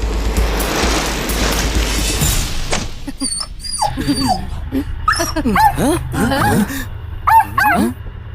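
A dog gives a string of high whimpers and yips up close, in short uneven bursts after a few seconds of noisy background, with voices around it.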